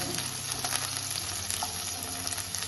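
Ginger and garlic fry in hot oil, a steady close sizzle that continues evenly throughout with no voices.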